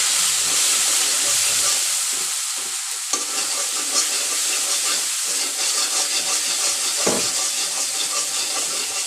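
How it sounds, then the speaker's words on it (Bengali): Spice masala with chili powder and garam masala sautéed in a hot pan, a loud continuous sizzle and hiss with stirring scrapes throughout, no voices. "মশলাটা এখন কষিয়ে নেবো"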